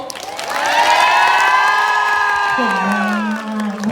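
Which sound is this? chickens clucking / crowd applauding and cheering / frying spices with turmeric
crowd applauding and cheering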